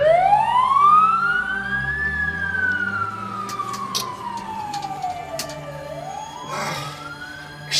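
An ambulance siren wails up and down in long sweeping tones, loud and close, with low traffic rumble beneath it in a comedy sketch scene.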